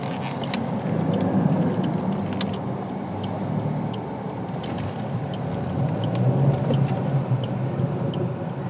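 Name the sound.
Maruti Suzuki Swift car making a U-turn on a busy road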